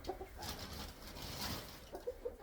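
Chickens cluck softly in a coop on a winter morning, a few short faint calls scattered at the start and end over quiet background rustle.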